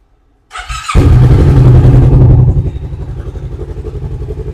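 Preowned sport motorcycle with a custom aftermarket exhaust firing up after a brief silence, then revving hard and loud close by before settling into a lumpy, pulsing idle.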